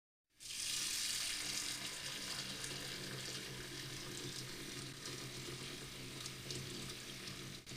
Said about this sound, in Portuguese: Aqui está uma torneira aberta.